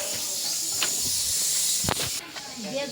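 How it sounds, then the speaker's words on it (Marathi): A pressure cooker hisses steam in a loud, continuous rush that holds for most of the moment, with a couple of brief thuds and a faint voice in the background. "तर कुकर फुटल"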